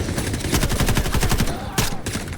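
Rapid bursts of Vityaz submachine gun fire in the shooter game Delta Force, loud and close, with a brief pause and a final short volley, no talking.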